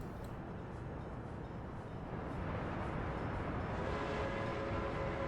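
A train running in the video game Workers and Resources, a steady low rolling rumble that grows slightly louder, with a faint high tone toward the end.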